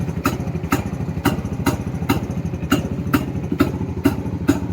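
An older, well-kept motorcycle idles alone, its engine producing a steady, even beat of evenly spaced thumps over a low mechanical hum, close and clear.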